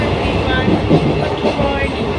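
Interior of the Gour Express train running from Sealdah to Tarapith, a dense continuous rumble of wheels and carriage noise with faint rhythmic clatter, loud and close throughout.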